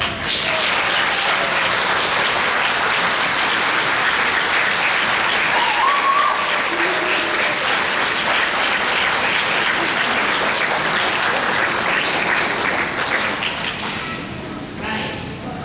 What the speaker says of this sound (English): Students, a round of applause for those who have supported you